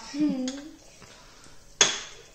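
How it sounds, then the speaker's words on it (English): Cauliflower cheese sauce being mixed in a pot, a few faint scrapes and then one sharp metallic clank of utensil against pot, close by, with a voice talking briefly at the start. "So, I'm going to mix it so obviously it melts."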